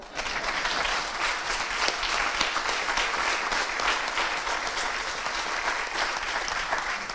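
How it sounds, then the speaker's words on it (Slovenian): An audience claps at a presidential reception in Slovenia, steady, dense applause from a sizable crowd lasting throughout at an even level. "Ja kaj, nam ne boste ploskali?"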